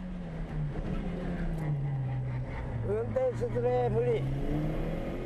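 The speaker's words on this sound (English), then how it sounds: "using fourth gear for this straightaway on the first lap, but using third on this second lap" Toyota Starlet race car accelerating hard down a track straightaway, its engine note rising and holding steadily under continuous commentary talk throughout.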